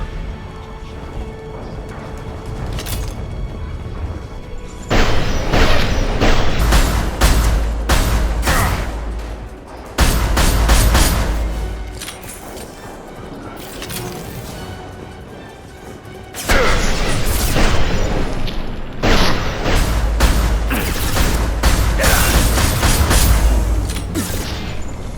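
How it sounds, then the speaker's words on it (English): A flashbang grenade goes off during a Mass Effect 2 firefight, with loud booms and crashing bursts among heavy gunfire, and voices shouting through the battle. "Watch out! Flashbang!"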